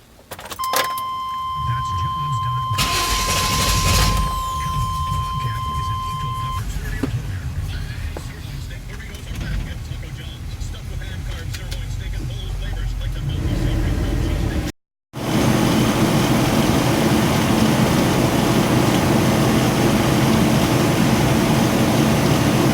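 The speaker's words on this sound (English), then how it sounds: "turn the AC on, and that should be enough to get the compressor to kick on" A 2001 Chevy Express 2500 camper van runs with its air conditioning compressor engaged, a steady loud engine and fan drone with a brief tone early on and a short dropout near the end.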